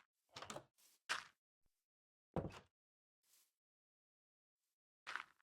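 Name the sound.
door opening and closing in the video game Minecraft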